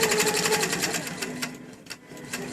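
A Qbot-driven longarm quilting machine stitching a cupcake pattern across a basted quilt, a fast even mechanical whir of needle strokes, close and steady throughout with no talking.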